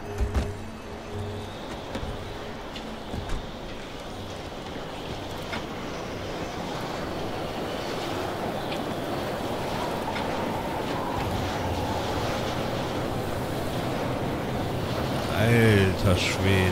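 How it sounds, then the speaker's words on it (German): Strong wind in the video game Pacific Drive, a broad rushing roar that swells steadily and grows louder toward the end, with a few knocks and rattles early on. "Der Wind drückt dich echt durch die Gegend."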